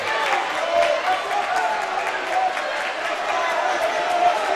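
A loud, roaring crowd at a high school boys basketball district game fills the gym with a steady wash of cheering and chatter, and a commentator's voice talks over it.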